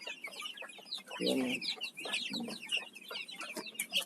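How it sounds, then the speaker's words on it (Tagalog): Large backyard chickens at a rural Philippine farmyard cluck in short, choppy bursts, with one louder burst from a nearby bird amid steady background chatter of the flock. "Ito yung malalaki kong manok yan sa kabila na yan."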